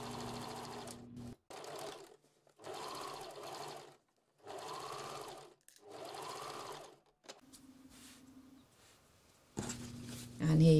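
Sewing machine running in several steady bursts with short pauses between them, stitching the side seams of a bolero jacket lining and shell; the whirring is close and fairly quiet, with a faint low hum in the gaps.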